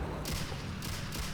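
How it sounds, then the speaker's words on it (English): Gunfire in the tank game Steel Fury: a few heavy, distant-sounding blasts roll out over a constant low engine rumble, with broad noisy bursts at roughly even intervals. "That's some kind of gun."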